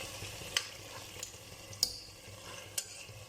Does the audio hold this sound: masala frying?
yes